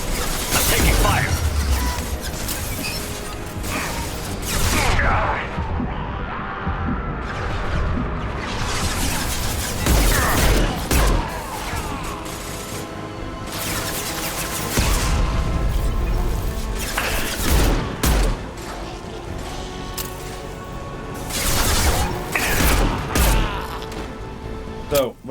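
Gunfire and impact crashes in the Mass Effect 2 video game, a string of sharp bursts and clanking mechanical hits through the whole stretch, loud and close with busy game noise between them.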